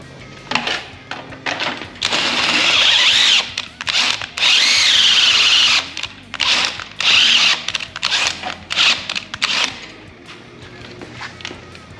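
A power drill whirs in several bursts of varying length during restoration work on an LS-swapped 1968 Chevrolet C-10, loud and close, with brief pauses between runs.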